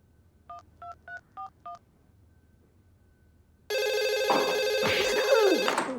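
Five quick touch-tone beeps dial a number, followed after a pause by a loud, continuous electronic ringtone.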